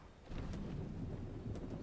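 Thunderstorm rumble inside the Diablo 4 video game: low, steady roaring thunder with a wash of rain and wind, continuous and fairly faint for under two seconds, with no voices.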